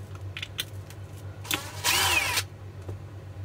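A power screwdriver spins out Phillips head screws from a VanMoof S3 e-bike battery, with a few short whirring bursts and one longer run, close by among small handling clicks.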